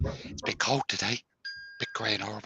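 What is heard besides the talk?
phone notification chime for going live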